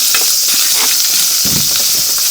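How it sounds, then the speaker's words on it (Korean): Green onions for jjamppong stir-fry in an oiled pan with a loud, steady sizzle and hiss, broken by the scrape and clatter of stirring, close up. "파가 숨이 죽을 때까지 볶아"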